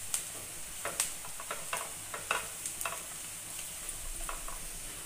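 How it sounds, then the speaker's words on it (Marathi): Onions frying in a pan while being stirred: a soft background sizzle punctuated by a dozen or so sharp spatula clicks and scrapes against the pan at an irregular pace, close up and without speech. "व्यवस्थित हलवून घ्यायचं आहे आपल्याला। कांदाही आपला चांगला परतून झालाय।"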